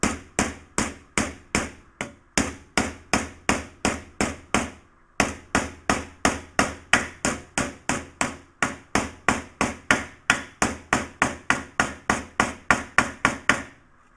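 Hammer blows shrinking a small sheet metal flange around a corner, a rapid series of sharp metallic strikes in steady bursts with short pauses, loud and close with no talk.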